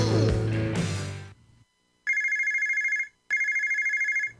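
An old-style telephone bell rings in two long bursts with a short gap between them, loud and close, following a brief stretch of music that fades out.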